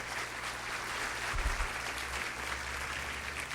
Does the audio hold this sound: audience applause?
yes